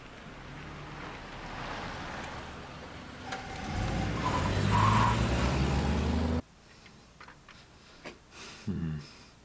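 A car being moved nearby, a steady rumbling vehicle and road noise that runs loud for several seconds, then drops away abruptly to a quieter scene with a few faint bumps.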